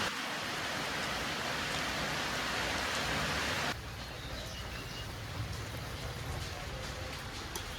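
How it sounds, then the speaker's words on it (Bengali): Steady rain falls outside, a dense, even hiss of drops that is loud at first and then drops to a softer, continuing patter. "এদিকে বৃষ্টি আসছে"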